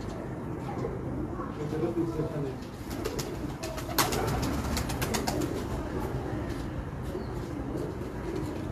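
Pigeons coo in a loft of kept Jonsare pigeons, soft repeated low calls layered over steady background noise, with occasional wing flaps and people talking nearby.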